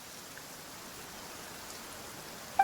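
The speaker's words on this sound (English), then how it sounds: "One's thoughts drift easily while standing alone in the rain." Rain falls in a video game as a faint, steady patter and hiss, evenly spread throughout with a small click at the very end, and no voices.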